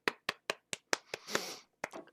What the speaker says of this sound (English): Let's just give a round of applause to Seth and AD2L.